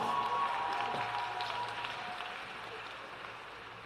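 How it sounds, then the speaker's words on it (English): A large audience at the 2018 Palm Beach Lakes Community High School graduation applauds the band, the Marine Corps JROTC and the choir: a dense, distant wash of clapping and crowd noise that slowly fades. "Let's give them a big round of applause."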